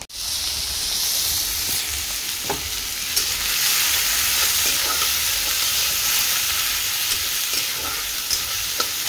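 Cumin seeds and dried chillies frying in hot oil, a loud, continuous close sizzle with a few faint stirring ticks and no talking.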